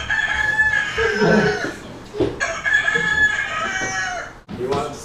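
A rooster crows loudly and close, its call drawn out, followed by a second crow after a brief pause.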